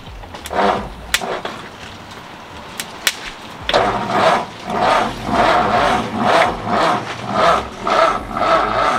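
A 1952 Ford F1 truck engine, started by jumping the solenoid, cranks with a few sharp clicks and then runs with a rough, rhythmic throbbing idle that pulses steadily and sounds loud and close.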